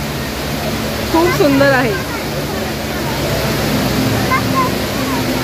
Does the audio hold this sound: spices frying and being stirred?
no